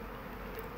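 Honeybees buzz faintly in a soft, steady hum around an open hive during an inspection, a brief moment with no voices.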